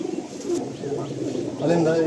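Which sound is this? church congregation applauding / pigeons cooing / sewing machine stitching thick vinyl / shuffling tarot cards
pigeons cooing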